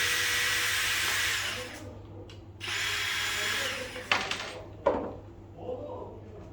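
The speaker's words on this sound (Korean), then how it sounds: "이 드릴로 미리 뚫고 내가 나사를 박을 자리를 먼저 뚫고 나서 나사를 박는데요" An electric power drill boring pilot holes in wood in a woodworking shop, a sustained whine running in two long bursts, then stopping, followed by a few sharp knocks and handling clatters.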